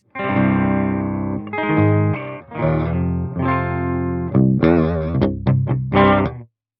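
An unaccompanied electric guitar plays a short riff of sustained notes and quick picked phrases, close and fairly loud, ending abruptly.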